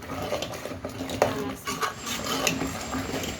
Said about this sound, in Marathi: मसाला वगैरे सगळं असं याच्यामध्ये परतून घ्यायचं आहे आपल्याला